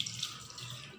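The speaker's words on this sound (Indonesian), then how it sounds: "basahi kedua telapak tangan dengan menggunakan air mengalir" Running tap water pours over both palms during hand washing, a steady, soft hiss of flowing water close by with no talking.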